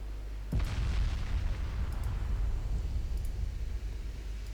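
Battle cruisers opening fire in Ultimate Admiral: Dreadnoughts, a single heavy naval gun boom followed by a long rumbling, rolling roar that lingers at moderate level, with faint distant reports later.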